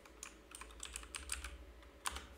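Computer keyboard keys pressed for Ctrl shortcuts while editing photo layers, a quick run of light, close clicking taps with one sharper press near the end, over a low steady hum.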